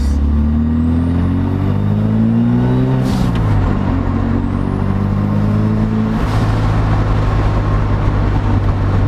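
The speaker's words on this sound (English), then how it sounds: "now that we got the car started, we can actually drive" A Mazda RX-7 rotary engine idles and revs close by, a throaty steady hum with rising and falling pitch, loud and continuous with no talking.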